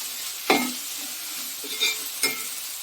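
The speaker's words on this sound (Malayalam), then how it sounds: "കുറച്ച് സമയം ഇങ്ങനെയൊന്ന് ഇളക്കി കൊടുക്കുക." Sliced onions for an egg roast sizzle quietly in a pan as a spoon stirs them, giving three distinct scraping clacks over a soft, steady frying hiss, no talk.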